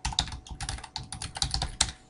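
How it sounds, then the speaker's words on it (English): Quick, irregular clatter of typing on a computer keyboard, close and clear, with a dozen or so crisp keystrokes in a short burst and no talking. "you're better off just typing"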